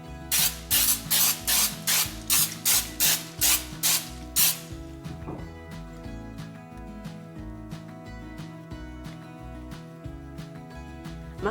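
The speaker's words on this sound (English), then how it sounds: "I'm going to spray it with some non-stick spray" Non-stick cooking spray hisses into a 9 by 13 inch baking dish in about nine short, sharp bursts at a steady rhythm. Quiet background music follows after the spraying stops.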